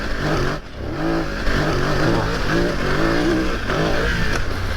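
A BMW F900 GS Enduro motorcycle revs hard while climbing a hill, its engine loud and close with rising and falling pitch as the throttle works, and no talk over it.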